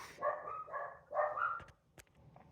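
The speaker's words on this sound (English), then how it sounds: "Girlfriend's dog's barking." A household dog barks several times in quick bursts, faint and somewhat distant, with short pauses between barks and a soft click or two near the end.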